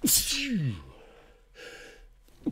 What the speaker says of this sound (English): excuse me, about to sneeze again.